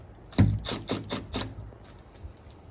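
An Elemake smart deadbolt being tightened during installation gives a close series of about five ratcheting, scraping mechanical clicks at an uneven pace, fading into quieter handling noise.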